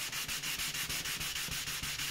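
Steady back-and-forth rubbing of fine 300 to 500 grit sandpaper on a Swan SW1248M, about a dozen even strokes in a regular rhythm, close up with no voices.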